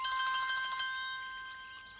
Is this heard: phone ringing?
yes